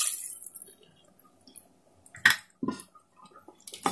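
Water splashes into a cooking pan in a couple of short bursts while making a potato dish, with clinks and quiet kitchen noises between them, close and moderately loud.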